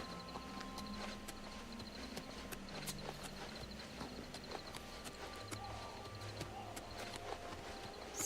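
Horse hooves clip-clop at a steady walking pace near a stable in Oblivion Remastered, the even, quiet knocks repeating over a low outdoor background with no talk.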